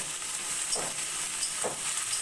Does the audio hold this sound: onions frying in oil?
yes